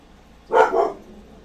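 A single dog bark sounds out clearly, a short double-pulsed yap close by, indoors, with quiet room noise before and after and no talking.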